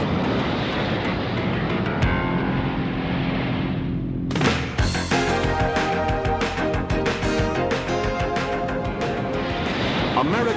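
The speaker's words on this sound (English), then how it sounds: "the Grumman F-14 Tomcat" A Grumman F-14 Tomcat jet roars loud and continuous, its engine noise swelling abruptly midway into a dense, harsh blast that holds to the end.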